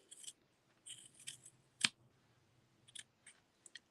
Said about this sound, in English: And then trim your tassel.